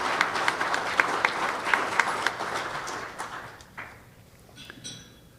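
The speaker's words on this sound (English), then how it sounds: "Let's give all of these sponsors a round of applause for giving us the ability to have this." An audience at a state chamber of commerce annual meeting and tradeshow applauds sponsors, a moderate round of clapping that thins out and fades, leaving scattered final claps near the end.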